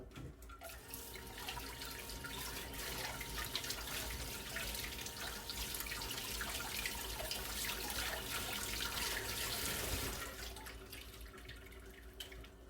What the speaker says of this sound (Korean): 좀 퉁퉁한 거 긴 거 사왔는데 요렇게 한번 씻어요.